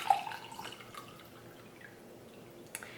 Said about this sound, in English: So let's go ahead and pour in our water.